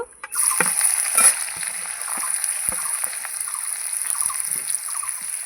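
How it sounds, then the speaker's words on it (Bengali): Onion frying and being stirred in a pan, with a steady bright sizzle throughout and occasional scraping knocks of a utensil, close and fairly loud. "দিয়ে পেঁয়াজটা আমি একটু ভালো করে নাড়াচাড়া করে নেবো একটু ভাজবো"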